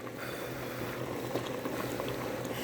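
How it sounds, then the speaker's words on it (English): Curry chicken with potatoes bubbles steadily in a pot, a soft continuous simmer with small pops and crackles and no talking. "So I'm gonna show you the curry chicken now. It's still boiling."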